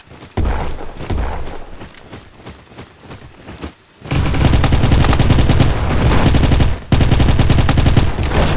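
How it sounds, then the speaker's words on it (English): Rapid automatic gunfire from a fast-firing gun in the Roblox shooter Bad Business. It starts with scattered bursts and mechanical clicks, then becomes loud, dense continuous firing with one short break. "Wow, this is a fast gun."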